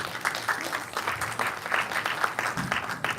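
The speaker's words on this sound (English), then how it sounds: "All right, a round of applause." Brief burst of audience applause, a dense, steady patter of many hands clapping at moderate loudness throughout.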